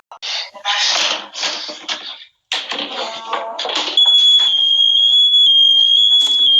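A Nest smoke alarm in a master bedroom gives a steady, piercing high tone in the second half, after a synthetic voice speaks.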